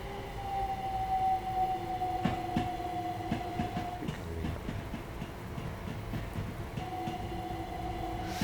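A train in Train Sim World 2 on the London commuter line from Selhurst to Victoria rumbles past with a sustained whistle-like tone, rhythmic clicking of wheels over track joints, and a second long tone near the end.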